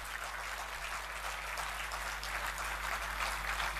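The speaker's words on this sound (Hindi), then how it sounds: "थोड़ी सी और तालियों का घनत्व तो बढ़ा दीजिएगा भाई नीलोत्पल मृणाल जी के लिए" Steady applause from a crowd at a Hindi national poetry gathering held on a campus, a continuous dense wash of clapping that holds at an even level throughout, with no voices above it.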